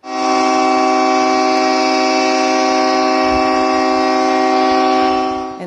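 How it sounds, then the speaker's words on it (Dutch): A yacht's foghorn, sounding at night at a shipyard in Vlissingen after rain shorted its wiring, blares as one steady, very loud, harmonically rich tone that holds unbroken through the whole stretch. "Half Vlissingen is in de nacht van woensdag op donderdag wakker geblazen door een misthoorn van een jacht dat bij de"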